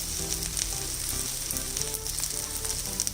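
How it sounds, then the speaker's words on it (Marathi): Onion and garlic cloves fry in a pan, giving a loud, continuous close sizzle with faint scattered crackles and scraping, and no voices. "तर कांदा थोडा गुलाबी झालेला आहे, यामध्ये आपण ह्या लसणाच्या 7-8 पाकळ्या घालायच्या आहेत"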